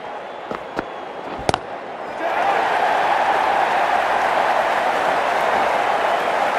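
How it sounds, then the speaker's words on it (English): A cricket stadium crowd at a Pakistan versus Canada T20 World Cup match swells into a loud, sustained roar and buzz of cheering, after a few sharp knocks and a quieter start. "There's a buzz, a real buzz coming from the stands."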